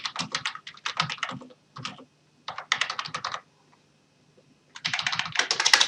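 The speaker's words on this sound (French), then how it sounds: "je vais commencer à taper mon courrier" Typing a letter in Notepad on a computer keyboard produces quick, close clusters of crisp key clicks in bursts of a second or so, separated by short silent pauses, with no voices.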